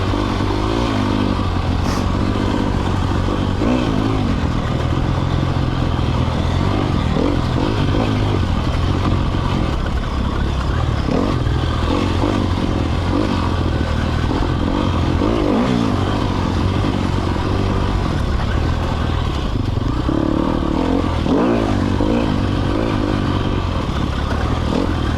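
A 2020 Sherco 300 SEF Factory dirt bike is ridden continuously, its engine droning and revving with rattling clatter and scraping over rough ground, loud and steady throughout.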